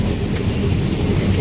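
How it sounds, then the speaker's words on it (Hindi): Rain falls outside in a short, dense burst of heavy, rumbling wash with a strong low-end roar, loud and continuous, with no talk. "बारिश हो रही है"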